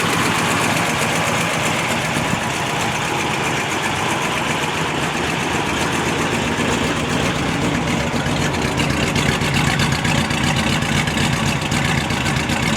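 A 1955 Ford Fairlane engine running through long mufflers, a loud, close, steady rumble with a low throbbing drone and a slight knocking texture, unbroken by any speech.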